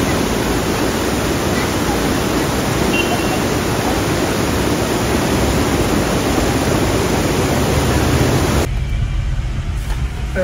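A mountain stream on the Silk Route rushes in a loud, continuous broadband roar close by, steady for most of the stretch before cutting off abruptly near the end.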